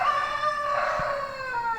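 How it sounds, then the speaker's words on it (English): A rooster crows in a long, strained call close by in Mazunte, Oaxaca, Mexico, with another crowing faintly behind it. "the roosters will wake you up"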